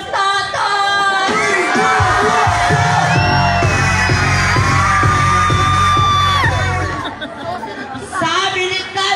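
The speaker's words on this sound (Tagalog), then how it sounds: "Ang hindi sumigaw na may kasamang hiyawan, susunod ang tatay!" Crowd at a gay beauty pageant in the Philippines cheering, whooping and shouting loudly in a sustained burst with a steady thumping beat underneath, then fading to scattered chatter and yells.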